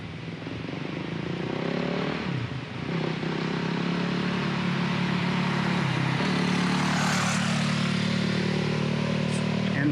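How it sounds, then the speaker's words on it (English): Motorcycle ripping past close by on a dirt road, a loud steady engine drone that swells and dips as it passes, with people talking over it. "Guy on the motorcycle out there, about to come ripping by us."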